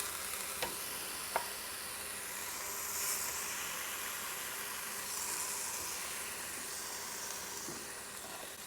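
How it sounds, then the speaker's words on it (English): Burger patties sizzling in the hot drawer of an air fryer, a soft continuous hiss with a couple of small clicks and knocks as they are set in place. "we'll just carefully set our patties right there. You can hear them sizzle."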